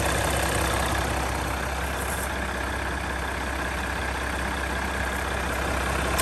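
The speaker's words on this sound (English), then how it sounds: "nice mechanical engineered sound coming out the engine" A 2016 Jeep Grand Cherokee Summit 3.0 CRD diesel with 8-speed automatic idles steadily, a constant low mechanical rumble with a faint high whine, close and unbroken throughout.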